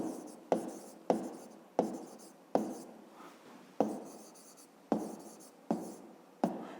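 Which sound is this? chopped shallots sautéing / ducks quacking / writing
writing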